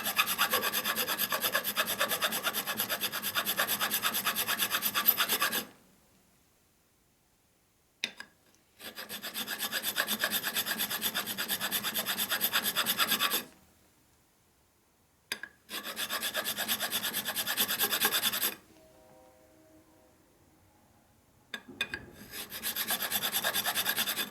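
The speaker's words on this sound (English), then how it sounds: "So I just kind of file this away a little bit." Hand file rasping metal on a 1957 Harley-Davidson panhead engine part, shaping a flat spot and chamfer; four loud, steady bursts of scraping strokes, close up, separated by short pauses, with no talking.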